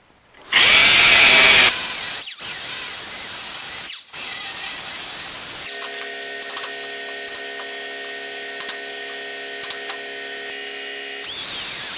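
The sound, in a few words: cutoff wheel cutting welds on 1966 Mustang cowl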